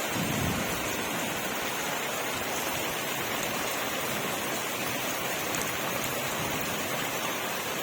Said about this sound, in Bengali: কালবৈশাখী বর্ষায় ঝমঝম করে বৃষ্টি, আর তার সাথে শুরু হয়েছে বাজ পড়া, মেঘের গর্জন।